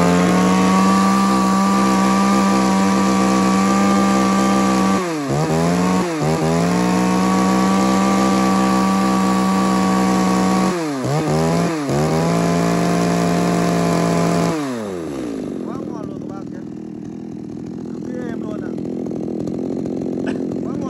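A used Japanese chainsaw engine runs loud and close at high revs, briefly dipping and surging a few times, then drops to a lower idle.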